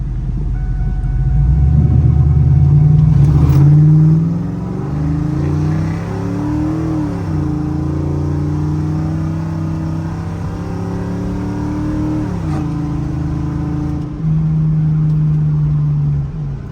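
A 1999-2004 Ford Mustang launches and accelerates hard, its engine roaring loud and close as revs climb and fall through several gear changes, a sustained throaty rumble with no talking.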